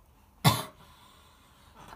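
A single sharp cough, close and fairly loud, with a short throaty tail, followed by quiet room tone and a faint sound near the end.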